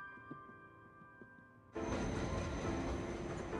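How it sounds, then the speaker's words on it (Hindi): A train roars past abruptly, its loud broadband rumble and rattle of wagons cutting in after a quiet stretch and continuing steadily close by. "ये तीसरी ट्रेन थी जो हमारी नहीं थी।"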